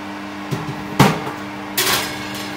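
An oven set to 150 degrees on fan mode being loaded with a tray of seeds for roasting, heard as a few hollow metallic thumps and knocks of the tray and door, one of them louder, over quiet background hum.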